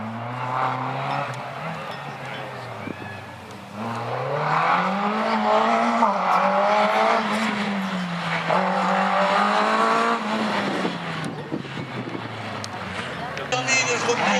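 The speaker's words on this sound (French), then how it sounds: "c'est la voiture champion de France de slalom en catégorie F2000" F2000 slalom race car engine pulls hard through a course in Agon-Coutainville, rising and falling in pitch with gear changes and throttle over a sustained stretch, with a commentator talking over it.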